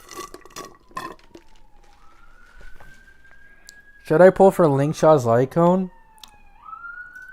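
Ambulance siren far in the background, a faint, steady wailing tone drifting in pitch across the whole stretch while a person talks over it and a louder voice briefly dominates near the middle.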